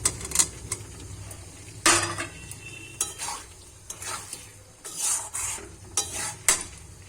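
Potato pieces fry in spiced masala in a pan, a spoon scraping and clattering against the metal in uneven bursts over a low, steady sizzle, close by and with no talking.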